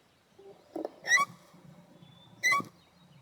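A kobyz, the ancient Asian bowed string instrument, imitates a golden eagle's cry with two sharp, piercing harmonic screeches about a second apart, each preceded by a short low bowed note, over a faint scratchy bed.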